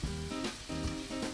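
Meat stir-frying in a pan aboard a family's fishing boat at sea, a steady close sizzle with short stirring pulses and no voices.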